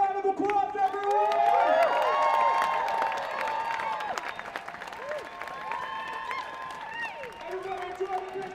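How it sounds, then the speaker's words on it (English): An outdoor crowd at an Invasion Day rally applauds and cheers, the clapping loud at first and then thinning out while voices and shouts carry over the top. "Give yourselves a round of applause, everyone!"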